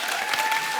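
A brief, loud burst of studio audience applause from a Hindi TV comedy show, dense clapping from a crowd heard alone for under a second.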